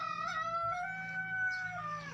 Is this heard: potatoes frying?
no